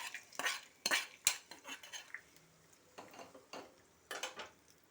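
A spoon scrapes and clinks against a dish while curd is mixed into cooked rice, giving irregular bursts of close, sharp metallic taps and wet stirring with short pauses between them.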